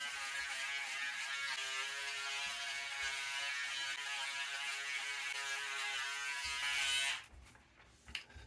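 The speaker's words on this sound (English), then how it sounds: "The Braun Series 5 is a wet dry shaver" A Braun Series 5 5049cs wet/dry electric shaver buzzes steadily at close range for about seven seconds, then cuts off, leaving a few faint handling clicks.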